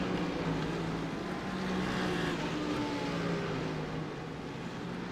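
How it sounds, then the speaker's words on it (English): A pack of racing cars in a sim racing game at Snetterton 300 drone into a corner, a dense blended engine roar with shifting revs, steady and moderately loud without talk. "There's a lot of cars going into that corner."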